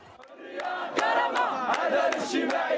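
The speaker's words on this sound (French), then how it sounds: "La foule scande liberté, dignité, justice sociale." A large crowd of young protesters in a Moroccan street, part of the Gen Z 212 movement, chants slogans in loud rhythmic bursts, with voices rising together on each repeated beat.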